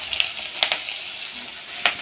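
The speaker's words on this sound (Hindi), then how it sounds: "अभी देखिए प्याज डाल रही है देखिए प्याज डाल दी एकदम" Chopped onions sizzling as they drop into hot oil in a home kitchen pan, with a steady crackle and a few sharp spits of bubbling oil close by, no voices.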